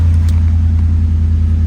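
A Ford F150 pickup engine runs right after starting, following an alternator and water pump belt install. A loud, steady, close low rumble idles evenly throughout.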